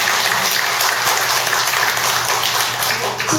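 A gathered audience at a Buddhist lecture on the climate crisis gives steady, continuous applause, a dense wash of clapping at moderate loudness with a low hum underneath.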